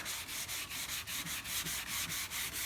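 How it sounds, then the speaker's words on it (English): A sanding block with 320 grit paper scrubs over a primed Chevy Impala body panel in steady rhythmic back-and-forth strokes, a close, continuous hissing rasp with about a dozen even pulses. "Now we're gonna block it with 320 grit sandpaper"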